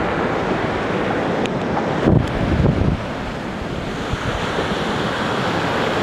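Ocean surf rolls continuously onto Hikkaduwa beach in Sri Lanka, a dense roaring wash mixed with wind buffeting the microphone, loud and near, with no speech.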